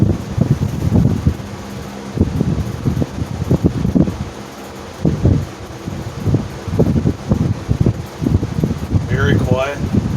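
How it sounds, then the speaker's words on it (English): A Wizard 6jc3020 box fan with steel blades runs close by, its airflow coming through as gusty, uneven whooshing and buffeting in irregular pulses, with a brief voice-like tone near the end. "I am just so astounded by how quiet these box fans are."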